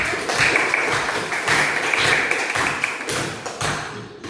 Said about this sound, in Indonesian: Beri tepuk tangan kepada Nona.